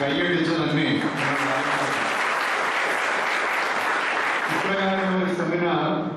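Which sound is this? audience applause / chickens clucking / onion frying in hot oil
audience applause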